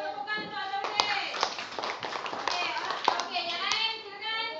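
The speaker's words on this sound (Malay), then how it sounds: "Tepukan untuk Azharuddin." Schoolchildren in a classroom clap together for a classmate, a cluster of quick sharp claps with children's voices chattering and calling over them.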